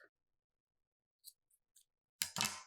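Scissors snipping through cord while a plant is repotted, a few quiet isolated clicks followed by a louder crisp double cut at the end, close and alone.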